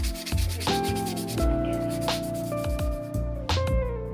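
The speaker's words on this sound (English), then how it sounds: "every coaster got a sanding using 220 grit and then 320 grit paper" Wooden coasters cut from a 2x4 rubbed with 220 and then 320 grit sandpaper, a close series of short scratchy strokes over a humming tonal background.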